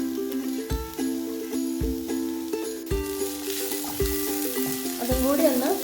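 Chopped capsicum sautéing with spices in a hot pan: a steady sizzle broken by several sharp stirring knocks and scrapes, with a sustained tonal background running throughout.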